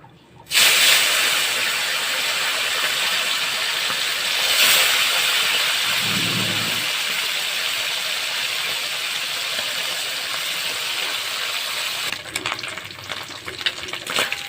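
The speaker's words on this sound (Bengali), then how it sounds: "আমদি মাছটাকে ভেজে নিচ্ছি" Amudi fish fry in hot oil in a pan, a loud, steady sizzle and hiss that starts abruptly and carries on unbroken, with a brief low clatter partway through and no talking.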